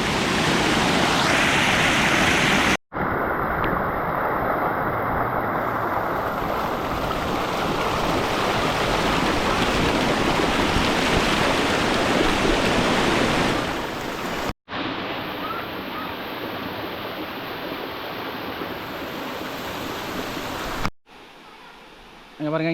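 Flowing water at the Krabi Hot Stream Waterfall in Thailand, a loud and steady broadband rush of cascading water close by, with brief cuts between stretches and a quieter tail at the end.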